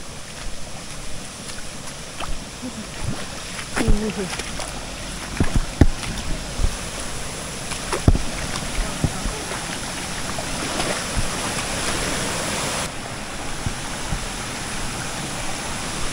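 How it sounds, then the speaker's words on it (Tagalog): Waterfall, a broad continuous rush of falling water, loud and steady throughout, with scattered knocks and splashes close by and no talk. "Ngayon, narin tayo sa talon."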